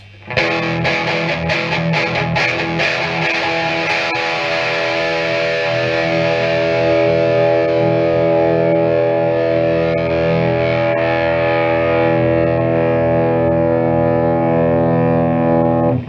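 Heavily distorted Ibanez electric guitar through a Krank Rev Jr amp with sweep at maximum and a Blackstar Celestion V30 cab, a strummed chord left to sustain loudly and evenly with a bright, buzzing tone throughout.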